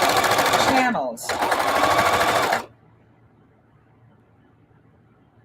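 A sewing machine quilts through thick layers with a walking foot, stitching in two loud, rapid bursts separated by a brief pause, then stopping into near silence.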